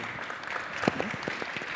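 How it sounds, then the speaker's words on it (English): Short, moderate audience applause for a visiting artist at an indoor talk session, a room of steady clapping with a voice briefly audible over it. "So big round of applause for Graham."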